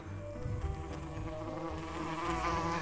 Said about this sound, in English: What do you have to say about the current wasp infestation?